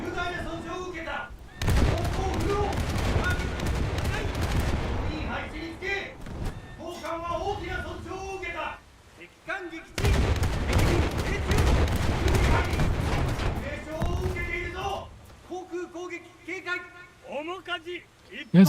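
Cruiser guns fire in a naval warship video game, heavy booming salvos rolling in long, dense bursts that fade into quieter gaps before another loud barrage.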